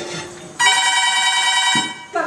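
A landline telephone bell rings in one sustained, bright electric burst lasting over a second, loud and close, with a voice briefly before and after.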